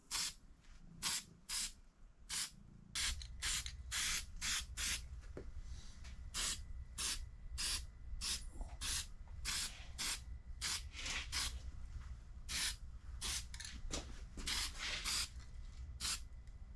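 Short bursts of spray paint hiss rhythmically as a carburetor from an International Harvester tractor gets coated in International Harvester red, a couple dozen close spurts over a low steady hum.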